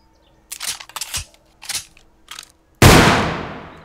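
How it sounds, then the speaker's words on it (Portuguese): A single sharp gunshot from the Lucifer gun in 7 Days to Die, loud and dry with a quick decaying tail, following a few short clicks and handling noises. "Muito barulho. Tiro muito seco, sabe?"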